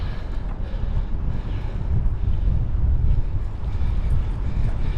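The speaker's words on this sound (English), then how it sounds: "And it's a little bit windy today." Steady westerly wind buffeting the microphone on a rail trail, a continuous low rumble and roar with gusts, no voices.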